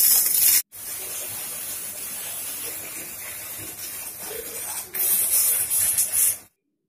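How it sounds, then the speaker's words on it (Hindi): A plasma cutting machine slices a circular shape from sheet metal with a steady, loud hiss. The hiss breaks off briefly near the start and swells louder toward the end before stopping. "प्लाज्मा कटिंग मशीन में सर्कुलर शीट कटिंग कैसी की जाती है इसका डेमो यहाँ पे बताया गया है।"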